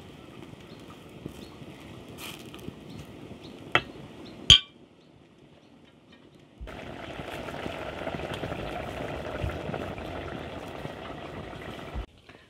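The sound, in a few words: seasoning boiling in a pot for sautéed mushrooms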